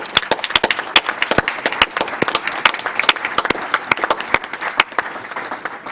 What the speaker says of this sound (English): let's give one more round of applause for Sarasota County's teachers